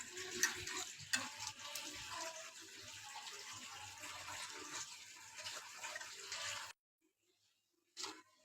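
Water is poured from above into a pan of salted, washed fish, a steady close splashing and trickle with a few sharp clinks near the start, stopping abruptly near the end before one brief last splash.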